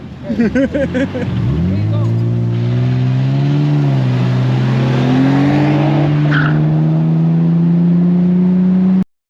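A Toyota Supra launches hard from a standstill, its engine roaring up through rising revs with a brief tire squeal at the start, loud and close, the pitch climbing steadily before cutting off abruptly.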